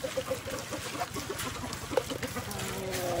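Chickens clucking nearby in a farmyard, soft irregular clucks over steady background noise.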